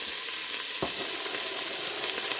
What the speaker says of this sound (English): we're going to cook our peppers and onions